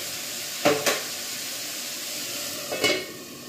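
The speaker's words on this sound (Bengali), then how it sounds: "একটু সাতলে নিয়ে এবার আমি এটাকে ঢাকা দিয়ে দিয়ে একটু ভিতরে ভিতরে সিদ্ধ হোক" Semolina upma cooking in a pan gives a faint, steady sizzle with two short bursts of scraping or stirring, one early and one late.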